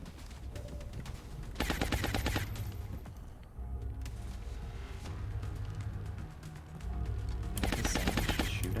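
Game gunfire in XCOM: Long War comes as two bursts of rapid automatic shots, loud and dense, with a calmer ambient stretch in between.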